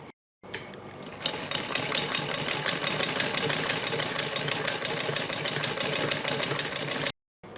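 A sewing machine runs a continuous stitching burst on a salwar design, a fast, even mechanical rattle close by that starts abruptly after a short silence and stops cleanly near the end.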